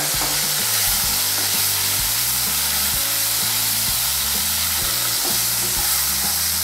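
Chopped tomato fries and gets stirred in a pan, giving a loud, dense sizzle that runs unbroken throughout, with soft clinks from the stirring and quiet music playing underneath.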